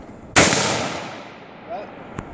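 A single sharp rifle shot from a Palmetto State Armory AR-15 or an SKS cracks loudly outdoors and rings out in a decaying tail, followed by faint handling sounds and a small click.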